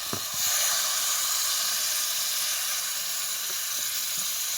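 Water poured into a hot pan of cooked-down curry on a new outdoor stove sizzles loudly with a sudden burst, then settles into a steady, close hiss of steam and bubbling with no talking.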